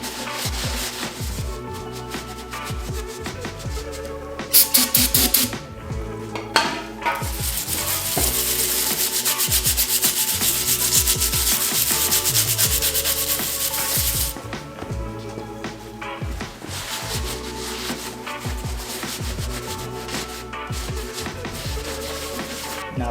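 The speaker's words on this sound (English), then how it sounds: "I'm just gonna use some brake cleaner and some soft bristles." A nylon bristle brush and brake cleaner scrub carbon off the piston heads of a 1965 Ford FE 352 engine, giving a steady, scratchy rubbing with rhythmic strokes, a louder hissing spell in the middle and a few clunks.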